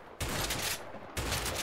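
Bursts of M14 rifle fire in the video game A Way Out, two loud volleys in quick succession, each opening with a sharp crack and ringing on, with no talk over them.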